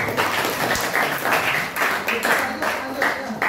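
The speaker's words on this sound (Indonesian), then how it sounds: "Ya, tepuk tangan dulu." A classroom group claps together in a steady burst, the rhythmic claps fairly loud and close, with a few voices mixed in.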